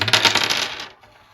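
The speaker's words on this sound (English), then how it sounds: "you take the dice that make the 12 and you roll them again" Dice rolled in a multiplication board game clatter and rattle in a brisk burst lasting under a second, then quickly die away, with no talk over them.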